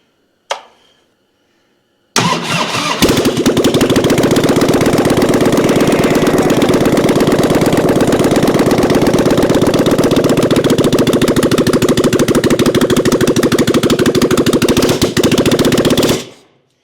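A 1997 Harley-Davidson Springer Softail V-twin is cranked on choke after a short click and quiet pause, then catches and runs at a loud, steady, slightly uneven idle for about fourteen seconds before cutting off.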